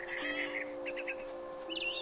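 Bird calls in What Remains of Edith Finch: a mama bird gives several short chirping, cawing calls in quick bursts, fairly close and clear over a faint steady tone, with a final call near the end.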